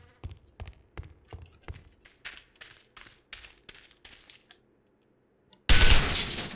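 Rapid gunshots ring out while zombies are shot in the Project Zomboid video game: a rhythmic string of about nine sharp, close cracks, a short pause, then a louder dense burst of fire at the end.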